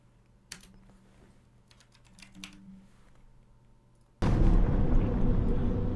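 A single computer keyboard hotkey gets pressed, giving a few light clicks amid quiet room tone. A sudden loud burst of dense noise from a horror game then cuts in and holds to the end.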